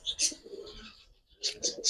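A Giribaz high flyer pigeon gives soft, close cooing bursts, a pair of calls, a pause, then a quicker run of three coos.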